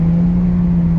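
A K-swapped Honda EM1 with a worn, slipping clutch is held at high revs in fifth gear, making a loud, steady engine drone with no voices.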